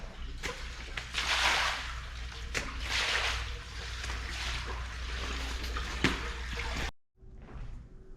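Water sprays steadily across a motorcycle being washed in winter, broadband hiss with surging gusts and brief pauses, then cuts off abruptly near the end.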